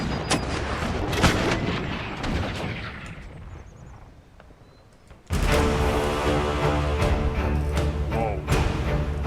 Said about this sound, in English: Our cannons are going to be hitting the enemy, already aiming at them.